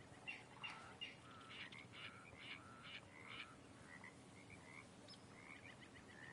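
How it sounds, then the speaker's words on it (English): Western toad croaking in the Red Dead Redemption 2 game, a series of raspy, chirping calls repeated in quick bursts, fairly faint against quiet outdoor ambience. "Western toad."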